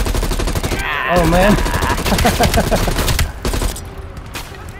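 Rapid gunfire in Call of Duty Black Ops Cold War, a dense burst of shots mixed with game effects, followed by a brief exclamation from a player.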